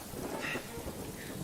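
Rain in an animated show, a steady soft hiss of falling rain with a low rumble beneath, faint and continuous throughout.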